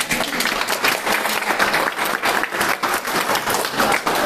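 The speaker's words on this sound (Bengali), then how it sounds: "জোরে হাততালি হবে একটা।" Audience at the grand opening ceremony of Rajnandini Utsav Vatika breaking into loud, sustained applause, dense rapid clapping from a crowd filling the whole moment.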